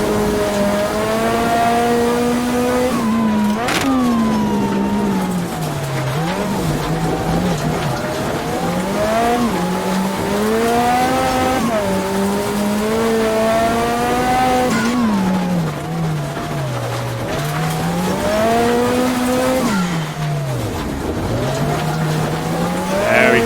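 Lancia Delta S4 Group B rally car in a racing video game climbing the Transfagarasan mountain road, its engine screaming continuously and loudly, rising and dipping through gear changes with brief tire squeals.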